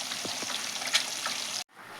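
Fish frying in a pan for a spicy fish fry, a steady close crackle and sizzle with a few louder pops, cutting off abruptly near the end and resuming faintly.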